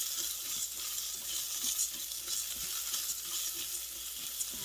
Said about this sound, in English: And then he has onions in there. Give that a stir.